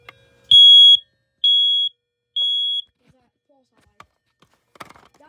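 A rare 2006 BRK smoke alarm under test lets out three loud, shrill beeps in an even rhythm, each lasting under half a second, followed by faint clicks and handling noise.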